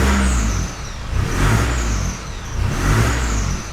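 A loud turbocharged 4WD engine with a 3-inch exhaust revs twice in quick succession, with a rising whine of the turbo spooling up over the roar, up close.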